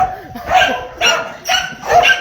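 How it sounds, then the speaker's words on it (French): Several dogs bark and yip excitedly at feeding time in a kennel building, bursts of barking in quick succession, close and loud, with a faint voice in the background. "c'est pour vous montrer un petit peu l'excitation des toutous à la distribution"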